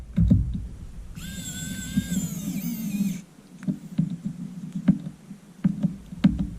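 A rechargeable 28-in-1 precision electric screwdriver whirs with a high, steady motor whine for about two seconds, amid close handling clicks and knocks.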